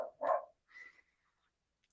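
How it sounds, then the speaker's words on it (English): Dogs bark a couple of times at a distance, short muffled woofs in a quiet room, followed by a brief sharp click. "And now the dogs are barking."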